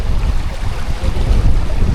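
Strong wind gusting steadily across the microphone at a riverside campsite in Tanay, Rizal on an overcast day, a continuous loud low roar and buffeting with no talk.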